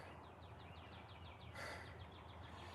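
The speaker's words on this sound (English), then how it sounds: "We're gonna get through it listening to the birds." Small birds sing outdoors in a steady series of quick, repeated high chirps over a constant background hiss, with a brief burst of broadband noise partway through.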